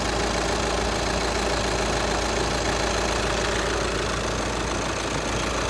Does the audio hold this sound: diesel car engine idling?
yes